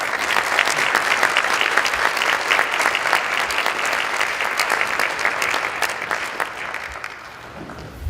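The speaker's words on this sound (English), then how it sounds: "one more round of applause for our elected officials" Another round of applause from a community salute audience for elected officials, dense and loud, a continuous wash of many clapping hands that stays strong and tapers only slightly near the end.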